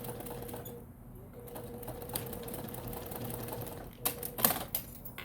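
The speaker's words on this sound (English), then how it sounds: "I can stitch across to the other corner" Sewing machine stitching across the corner of a double-pocket bag to form an X, a steady close mechanical whir running throughout with a few louder clacks near the end.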